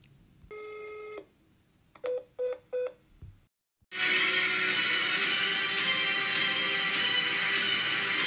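A telephone number is dialed: a long touch-tone beep, then three short keypad tones in quick succession, a moment of silence, and a loud hissing line noise that fills the rest.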